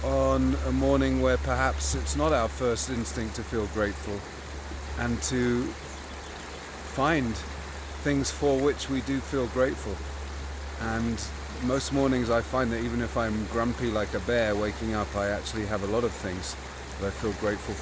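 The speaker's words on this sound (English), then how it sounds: "Right now it's early morning and I'm here by South Boulder Creek." South Boulder Creek flows on an early morning as a steady, broadband rush of water. It stays in the background throughout while a person talks continuously close by.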